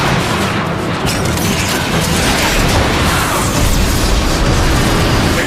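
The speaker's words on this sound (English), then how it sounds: "They're shelling the plaza!" Heavy, continuous explosions and booming blasts from warp cannon shelling pound a plaza in a Transformers game battle, a dense, loud barrage with no clear gaps between impacts.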